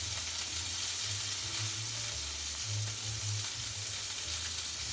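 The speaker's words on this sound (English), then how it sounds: "you want to sear them each side for like 2 to 3 minutes" Scallops sear in a hot pan, giving a steady, close sizzle with a low, rumbling undertone and no voices.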